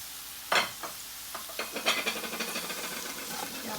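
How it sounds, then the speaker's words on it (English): Onion, ginger and garlic fry in a pan with a soft, steady sizzle. A few scraping stirs and clicks come from close by, all fairly quiet. "Now we're going to let this fry"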